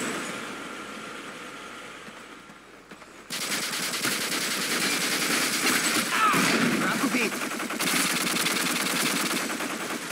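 Rapid automatic gunfire and explosions from online play of Call of Duty Modern Warfare II on PS3, dense bursts of shots over a continuous engine-like hum, mid-loud and sustained after a quieter start.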